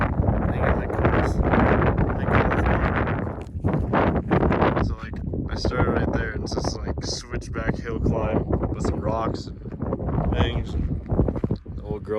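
Strong gusts buffet the microphone outdoors at a van camping spot in the Buttermilks, a loud, rough roar rising and falling continuously, with people talking intermittently through it.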